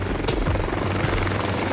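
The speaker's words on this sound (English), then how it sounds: "Three Boeing CH-47 Chinook helicopters take off from Waterloo Camp." Loud, steady rotor thrum of three Boeing CH-47 Chinook helicopters taking off, with a low, pulsing drone throughout, close and uninterrupted.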